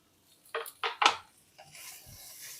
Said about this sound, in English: I'm mixing the onions with the meat